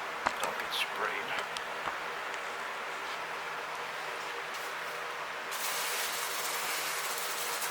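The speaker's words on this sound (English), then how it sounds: "time for the fun part of the brake clean now" Brake parts cleaner sprays onto the brakes of a Ford Ranger in a steady, close aerosol hiss with a few short bursts at first and a louder burst near the end, no talking over it.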